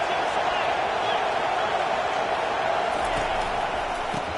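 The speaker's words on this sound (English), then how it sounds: "This crowd trying to make life miserable for this offense." A stadium crowd at a football game produces a loud, continuous roar that fills the whole clip as one steady, dense wash of noise without a break.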